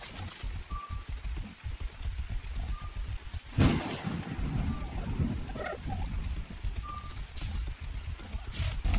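Thunderstorm in the video game Ark Survival Evolved: steady rain hiss with a sharp close thunder crack midway that rolls on as rumbling, plus faint repeated tonal chirps from the game in the background.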